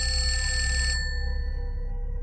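A public payphone on a dark mountain road rings with a bright, insistent electronic trill that cuts off about a second in, leaving a fading hum; no one speaks.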